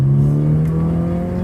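A Holden Commodore with a big-bore exhaust and no silencer revs with a loud, continuous engine drone that holds steady for the whole stretch, with no talk over it.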